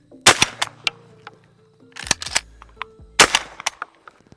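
A Retay Gordion semi-automatic shotgun fired outdoors as several sharp, loud blasts in a few clusters, each followed by brief clattering, with quiet gaps between shots.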